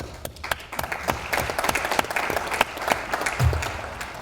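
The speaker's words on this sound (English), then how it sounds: "I'd like to give you guys a round of applause." A room full of people clapping at a college commencement, with distinct individual claps audible in an uneven, lively rhythm, fairly close and loud.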